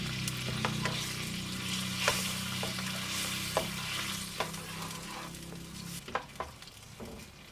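Rice and a cup of water go into a chicken paella pan already sizzling, giving steady frying hiss with scattered sharp clinks and scrapes of stirring, close and fairly quiet, no voices.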